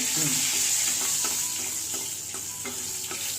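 Whole cardamom, cinnamon, cloves and bay leaf sizzle steadily in hot ghee for chicken kacchi biryani, a close, continuous frying hiss with faint stirring clicks throughout.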